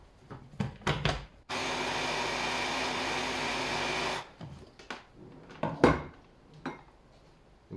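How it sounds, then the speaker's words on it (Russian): A blender whirs loudly and steadily for about three seconds, whipping homemade mayonnaise with more vegetable oil added, framed before and after by clinks and knocks of kitchen utensils. "мы добавляем еще растительного масла и перебиваем"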